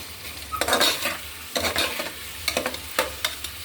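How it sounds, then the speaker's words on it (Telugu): Chopped onions frying in hot oil in a home kitchen, with a continuous sizzle broken by repeated bursts of stirring and a utensil scraping the pan, close and fairly loud, no talking. "ఆయిల్ వేడైతే ఉల్లిపాయలు ముగ్గుతాయి."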